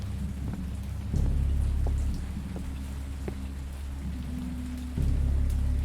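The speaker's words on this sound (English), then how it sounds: "That rain noise is so good if that's rain." Steady rain pours down in a dense hiss, with a deep low rumble swelling twice, like distant thunder or heavy downpour on a surface.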